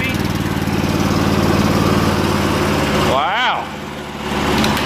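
A Cub Cadet 1250 lawn tractor repowered with a Predator 420cc engine runs close by with a steady, even drone, dipping briefly as a voice exclaims over it.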